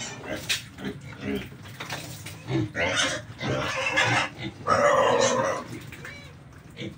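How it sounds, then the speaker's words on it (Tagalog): Freshly bathed piglets in a pen grunt and squeal in short bursts, close and fairly loud, with louder squealing bouts in the middle and a few bumps and knocks around them. "Napaliguan niya yung mga biik."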